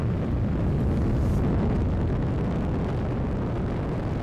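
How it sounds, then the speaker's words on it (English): A Falcon 9 rocket carrying a Dragon capsule lifts off from Launch Pad 39A, a loud, steady, broadband roar that fills the whole span without a break. "The 100th liftoff from Launch Pad 39A as Falcon and Dragon take flight to the International Space Station."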